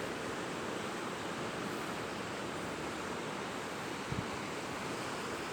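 Ocean surf roars continuously at Karang Agung beach in Kebumen, a steady broad wash of waves with wind, loud and unbroken, with no talking.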